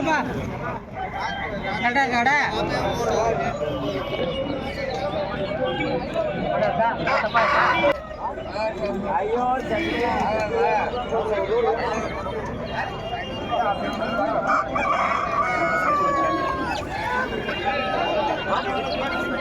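A rooster crows amid a noisy crowd at a poultry market, with people chattering and other fowl clucking in the background throughout.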